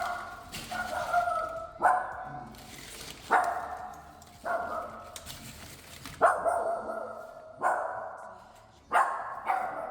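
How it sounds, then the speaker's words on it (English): A dog barks loudly and close by in a neighborhood at a delivery drop-off. About nine sharp barks come at roughly one-second intervals, each fading into a short whine-like tail, with no voices over them. "Can you imagine your neighbor has a dog like that?"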